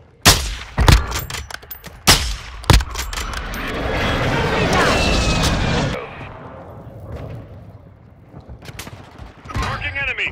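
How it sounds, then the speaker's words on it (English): A precision airstrike lands in Warzone 2: a run of sharp, loud blasts and cracks, then a sustained roaring rumble of explosions that fades into scattered smaller bangs. "Friendly precision airstrike inbound."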